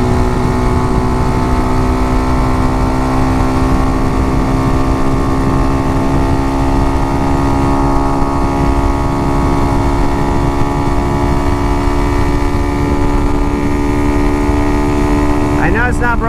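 An RPS Condor 150 motorcycle, a small Honda Grom-style bike, drones steadily as its engine holds high revs while riding, with strong wind rush throughout and a brief clatter near the end.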